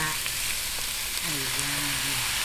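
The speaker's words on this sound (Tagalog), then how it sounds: "umpisahan po muna nating prituhin to. Palabasin po natin yung kanyang mantika" Pork intestines (isaw) frying in their own rendered fat for adobo, a steady close sizzle with crackling pops throughout, joined midway by a faint low tonal hum.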